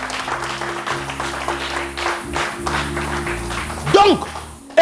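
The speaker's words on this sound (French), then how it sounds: "acclame la parole, acclame la parole, acclame la parole. Acclame bien, acclame bien." A church congregation claps in rhythmic, repeated bursts, loud and close, with voices and a sustained musical tone underneath.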